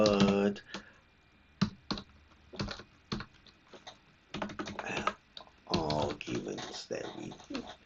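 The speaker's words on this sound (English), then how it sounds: "I'm just going to type in here Control F" Typing on a computer keyboard while working through Python code, with quick bursts of clicking keystrokes interleaved with a person talking over them.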